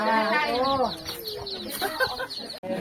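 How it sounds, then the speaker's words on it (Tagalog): Chickens clucking on a mountain road trip in Mayoyao, a burst of loud harmonic clucks up close at the start, then scattered softer calls and shuffling over a noisy outdoor background. "Bakit naglapitan na mga manok?"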